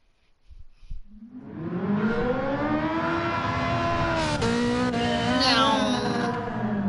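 A car engine in Gran Turismo 7 revs up strongly and holds a loud, rising tone, then drops through downshifts with a rough burst and climbs again, heard up close under occasional faint talk.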